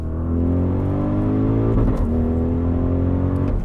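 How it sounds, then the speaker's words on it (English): A luxurious SUV's exhaust growls steadily on a downshift, heard from inside the cabin as a loud, continuous engine drone with smoothly shifting tone and no talk. "now I'm going to downshift so we can hear some exhaust"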